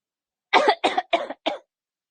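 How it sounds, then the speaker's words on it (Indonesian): Four short coughs come in a quick, close, fairly loud series, then silence. "jadi batuk dikit-dikit"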